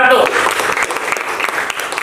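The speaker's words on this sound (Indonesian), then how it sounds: "tepuk tangan untuk kelompok 1" A classroom group claps for the first presenting group, a burst of scattered hand claps that starts loud and tapers over two seconds, with voices talking underneath.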